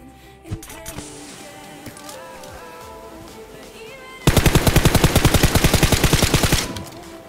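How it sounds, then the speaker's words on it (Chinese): Automatic gunfire in a battle royale video game: a sudden loud, rapid burst of evenly spaced shots lasting a couple of seconds, following quieter game ambience and a single earlier pop. "打中了两枪。"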